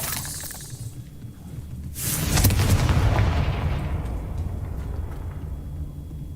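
The Confringo fire spell in the Hogwarts Legacy video game goes off with a sudden sharp blast and a booming, rumbling explosion that slowly fades over a few seconds, with no talking.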